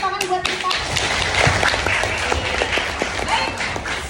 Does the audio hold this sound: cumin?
no